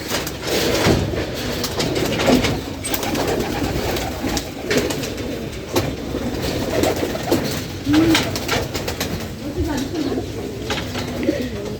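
Pigeons coo in a loft holding egg trays, with low rolling calls repeating over a steady, noisy background.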